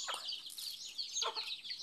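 Chickens cluck and chirp busily up close, a flurry of overlapping bird calls with no speech.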